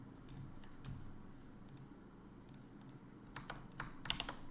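Light clicking of a computer keyboard, quiet and nearby, with scattered keystrokes that cluster into a quicker burst of typing toward the end; no talking.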